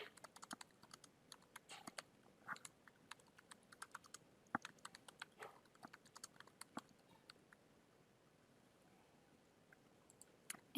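Quiet, close typing on a computer keyboard as a headline is entered: irregular bursts of soft key clicks with brief pauses, thinning out toward the end.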